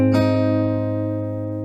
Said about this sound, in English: Next chord will be the G, and it's based upon a bar chord